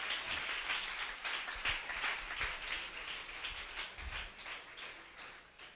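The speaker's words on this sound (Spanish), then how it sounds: "Vamos a darle un fuerte aplauso al Señor Jesucristo en esta mañana" Distant crowd applause in a church service rattles on steadily, faint and diffuse, with occasional louder claps standing out.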